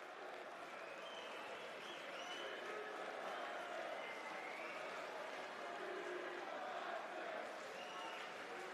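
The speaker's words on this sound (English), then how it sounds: "Fair play to the crowd cheering him on. Try to drown out the whistles." A darts crowd cheers and whistles at a match, a steady wash of distant shouting, applause and shrill whistles running throughout with no break.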